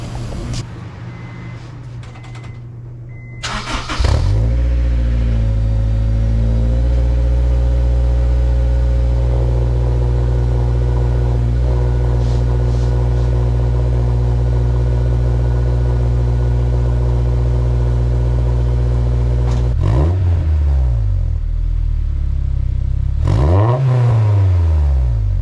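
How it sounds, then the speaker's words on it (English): A Honda S2000 fitted with an Invidia Q300 titanium-tip exhaust starts up, idles loudly nearby, then is revved hard twice, the engine pitch climbing and falling with each throttle blip, no talking. "Now let's see how it sounds,"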